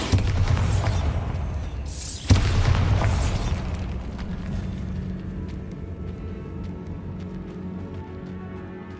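Bombarda spell blast in a Harry Potter video game: a loud booming explosion with crackling debris, followed by a second heavy impact and a long rumbling, fading tail.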